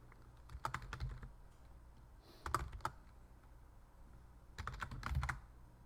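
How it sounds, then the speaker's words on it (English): Typing on a computer keyboard, three short bursts of quick clicking keystrokes separated by pauses, close and fairly quiet. "I'll type Facebook is freezing"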